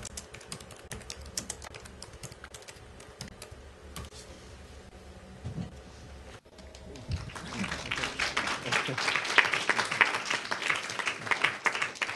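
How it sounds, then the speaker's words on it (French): Audience applause for two guests at a French panel discussion event starts after a quieter stretch, swelling into dense, sustained clapping that fills the room for the last several seconds. "Et donc on applaudit Arthur Guillaume et Sabrina Azouz."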